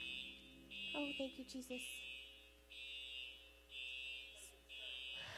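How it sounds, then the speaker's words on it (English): A fire alarm sounds in a building, a loud repeating electronic tone in long pulses with short gaps, continuing while a person speaks over it. "One of our little angels must have possibly pulled the fire alarm."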